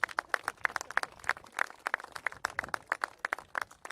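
Audience at a city housing announcement claps in a brisk, steady patter of sharp hand claps, moderately close and fairly sparse, with no voices over it.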